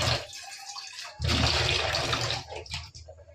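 Water rushing from a kitchen tap while dishes are washed, a close, steady splashing flow that swells louder midway, then breaks into uneven splashes and trickles.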